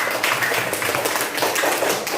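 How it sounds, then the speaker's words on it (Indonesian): Schoolchildren in an Islamic primary school classroom applaud, a dense close burst of many hands clapping continuously at a steady loud level, with no talking. "Ya, kita kasih tepuk tangan."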